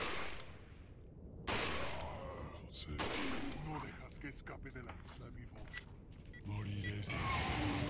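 Bursts of gunfire in the virtual reality game Resident Evil 4 VR crack out in several loud volleys with short gaps between, close and sharp, while people talk over the shooting.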